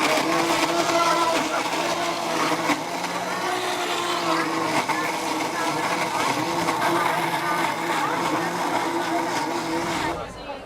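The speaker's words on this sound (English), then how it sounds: "We're going to go ahead and blend this up." A blender whirs steadily for about ten seconds, puréeing a raw vegan spicy barbecue sauce with half a hot pepper, its loud motor drone holding even before cutting off near the end.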